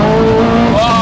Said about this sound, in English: Wheels spin everywhere!